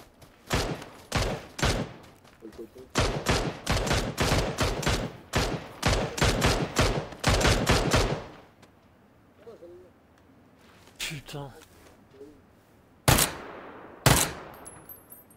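Sniper and rifle fire in PlayerUnknown's Battlegrounds: a long run of loud, sharp gunshots in an uneven rhythm, then a quieter pause with a few distant pops and two more close, loud shots.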